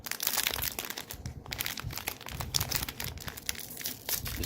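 Crinkly plastic packaging crackles and crunches continuously as a cookie bag is torn open and handled, close and loud with dense rustling bursts throughout.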